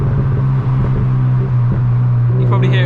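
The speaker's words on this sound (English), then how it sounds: "You probably hear it burbling. It's little pops" Mazda MX-5 MK2 exhaust burbles in second gear with a steady low rumble and a few small irregular pops, close and loud, while someone talks over it.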